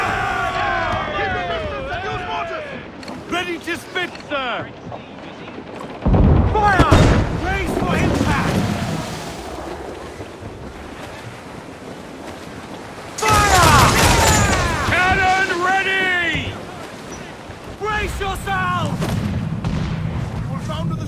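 Ship cannons boom in heavy broadside volleys during a naval battle in Assassin's Creed IV: Black Flag, two long loud bursts of overlapping blasts separated by shouted crew orders and music.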